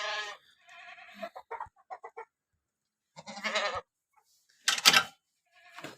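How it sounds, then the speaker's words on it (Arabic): Newly acquired hen clucking and squawking in short bursts from close range, with pauses between calls and a louder, harsher cry near the end; nobody talks. "جبنا دجاجة جديدة"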